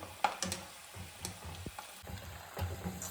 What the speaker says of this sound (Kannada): ಇವಾಗ ಕಡಲೆ ಬೀಜ ಫ್ರೈ ಆಗಿದೆ